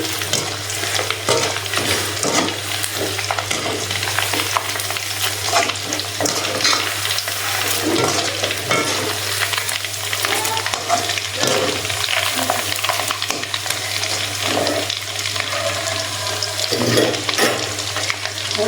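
Chicken chilli frying steadily in hot oil in a home kitchen, a continuous close sizzle with faint stirring scrapes and no talk over the whole stretch.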